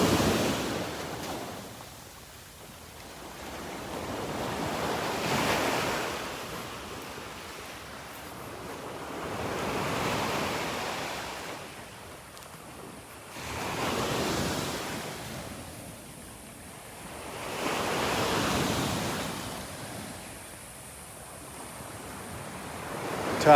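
Ocean surf on the Gulf beach at Delnor-Wiggins rolls in with an incoming tide, slow swells of breaking waves rising and fading about every five seconds under a steady wind rush.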